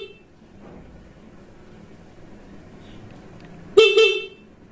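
A single short, loud honk from the standard horn of a Honda Supra X 125 motorcycle near the end, after several seconds of quiet.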